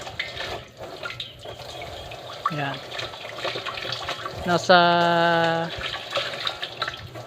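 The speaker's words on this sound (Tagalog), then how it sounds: "ito po yung tubig na galing sa baba so ganyan lang po yung pressure niya" Low-pressure water runs from a hose pipe fed from a source about 300 meters downhill, a steady splashing stream at close range, while someone talks over it and harmonic engine or pump tones rise briefly.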